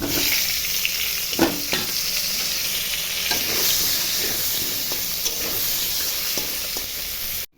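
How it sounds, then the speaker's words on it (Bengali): Continuous sizzle of aubergine pieces frying in oil, close up, with occasional stirring scrapes and pops over the steady hiss. "তেলে বেগুনগুলো এখন ভাজি নেব।"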